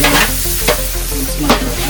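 Mint leaves fry in hot oil in a large pot on a small stove, giving a steady, close sizzle with two sharp spoon scrapes.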